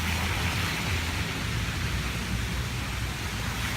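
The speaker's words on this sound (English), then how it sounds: "it's raining just a little bit" Light rain falls outdoors near a park, a steady broadband hiss with no distinct drops or breaks, close and constant for the whole stretch.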